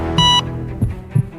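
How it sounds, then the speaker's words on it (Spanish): A hospital monitor emits a single steady electronic beep, short and clear, followed by a few soft low thumps in a quiet room. "Un pitido de monitor resonó con una estabilidad casi cruel"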